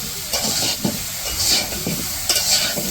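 Steady sizzling and hissing of mango with salt dry-frying in a hot pan without oil, with intermittent stirring scrapes as it is tossed around.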